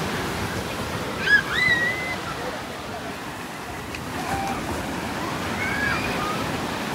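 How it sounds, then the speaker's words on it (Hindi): Large surf rolls onto a beach on Phi Phi Island, Thailand, during rain, a steady broad wash of breaking water close by, with a faint voice or high tone briefly rising above it. "क्योंकि वेव्स बहुत बहुत बहुत ज़्यादा बड़ी हो जाती है"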